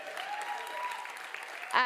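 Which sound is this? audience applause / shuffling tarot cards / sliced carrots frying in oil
audience applause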